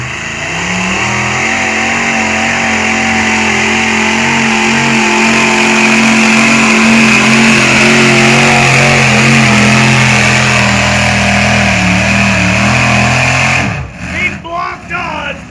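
Race cars powered by Dodge 440 engines roar away together at a motor racing event, a loud, steady, close engine drone that holds for about thirteen seconds before cutting off abruptly.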